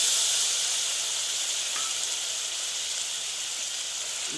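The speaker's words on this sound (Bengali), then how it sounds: "বাটিটা ধুয়ে একটু জল দিয়ে দিচ্ছি" Water poured from a rinsed bowl into hot masala paste with cashew for aloo dum sets off a loud steady hiss of steam and sizzle that slowly eases, close by with no talk.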